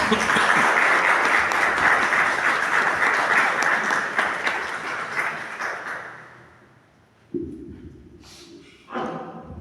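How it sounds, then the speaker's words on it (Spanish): Audience applause at the opening of a seminary week, a dense wash of clapping that fills the first several seconds, then thins and fades out, followed by a couple of brief thumps and murmurs. "Un aplauso."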